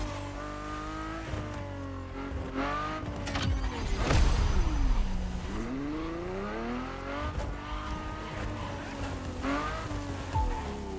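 Car engine in The Crew Motorfest racing game, revving and shifting through gears with rising and falling pitch, tire squeal and skidding mixed in, a loud surge near the middle, sustained and close with no talking.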